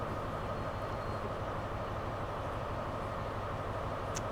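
Steady rumble of a high-speed train running in Train Sim World 4 on the London to Faversham line, a continuous broadband roar with no talk.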